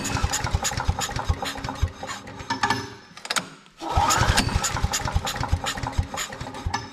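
A small Viper engine on an Earthquake wood chipper runs just above idle, a steady loud buzzing drone that dips briefly to near silence mid-way before picking back up and running on.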